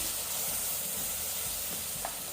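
Green masala paste sizzles and hisses steadily in a pan with fried garlic over a low flame for pork curry, a constant close frying sound with a few small pops and no talking.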